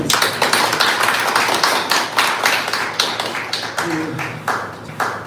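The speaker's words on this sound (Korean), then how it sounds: "다시 한번 큰 박수 부탁드립니다" Audience applause at a year-end healing talk concert held by a local party chapter: a room full of hands clapping in a dense, steady patter that gradually thins toward the end, with a brief voice partway through.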